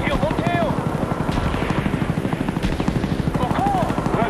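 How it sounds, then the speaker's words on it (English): Huey helicopter from the video game Call of Duty Black Ops arriving, its steady rotor thump chopping throughout over busy battle ambience, with radio-style voice callouts and occasional chirps on top. "Friendly Huey, inbound."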